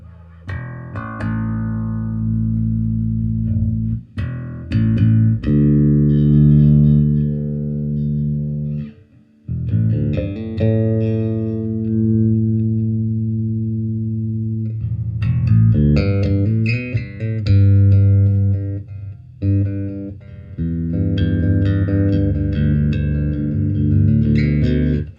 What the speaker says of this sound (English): Sounds like a bass amp.